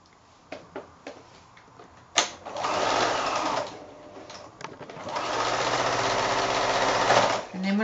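A sewing machine stitches quilt patches in bursts, running steadily for a few seconds, pausing, then whirring again, with scattered clicks of fabric handling at the start.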